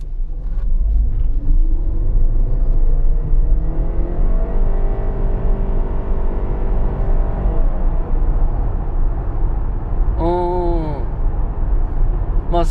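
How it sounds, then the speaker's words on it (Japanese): A Honda Odyssey e:HEV ABSOLUTE EX Black Edition minivan accelerates at full throttle on a highway, its steady engine drone rising in pitch under loud road rumble, with a brief chime near the end. "アクセルベタ踏みオン"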